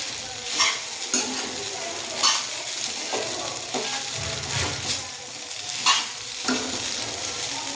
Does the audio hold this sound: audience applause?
no